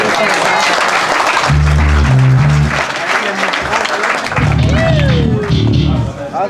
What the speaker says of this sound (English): Give all the bands that played tonight a round of applause.